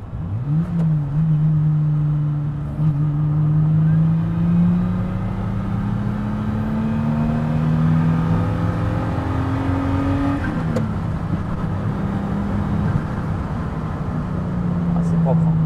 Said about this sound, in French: c'est trop marrant ce son du turbo là